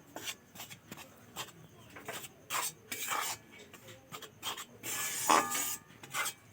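Roasted gram flour (sattu) fried and stirred in a pan over low heat for halwa, heard as close, irregular scraping and rubbing strokes with occasional brighter metallic scrapes, no talking.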